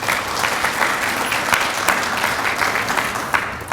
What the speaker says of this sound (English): Another round of applause would be great.